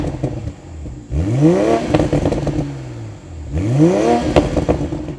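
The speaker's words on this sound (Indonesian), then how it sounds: "Begitu di mode sport akan ada letupan-letupan yang dewasa" A 2020 Toyota GR Supra engine in sport mode revs up twice in smooth rising sweeps, with a deep, rumbling exhaust burble and crackles between, heard up close without talk.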